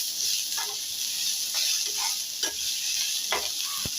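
Dried coconut and onions frying together in oil in a pan for a misal masala, giving a steady close sizzle with occasional stirring scrapes and no talk.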